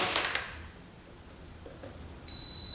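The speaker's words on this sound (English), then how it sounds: "if we hear a beep on our continuity tester, we should be good" A continuity tester on a Honda ATV's wiring gives one steady electronic beep near the end, loud and close, after a quiet stretch with a few faint clicks.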